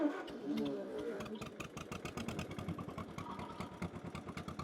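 An engine on a vintage John Deere No. 5 sickle bar mower fires up after decades idle, settling into a fast, steady chugging rhythm close by, with voices talking over it.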